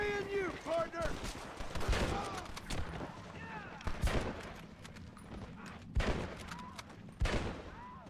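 Gunshots and fusillade bursts crack out several times across a Red Dead Redemption game scene as cowboys herd cattle, sharp reports near and far with background voices and game sound beneath.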